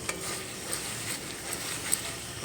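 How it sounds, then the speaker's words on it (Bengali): Green chili paste is stirred in a pan, with a low, even sizzle and a few light scraping taps from the spoon. "দেখো কাঁচা লঙ্কা বাটা দিয়ে একটু নেড়ে চেড়ে নেব"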